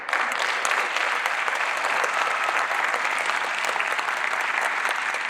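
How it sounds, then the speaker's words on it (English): Sustained, dense applause from a large graduation crowd at a high school commencement ceremony, steady and even throughout with no break, honoring the graduates' parents. "give a warm applause for your parents."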